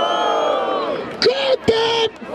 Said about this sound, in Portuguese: Barulho para as rimas do George!